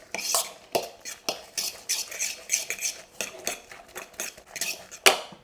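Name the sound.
mixing chili powder and garam masala in a bowl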